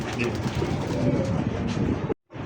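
Domestic pigeons cooing in a loft or market setting, a dense chorus of low burbling coos mixed with steady rumbling background noise that cuts off abruptly near the end.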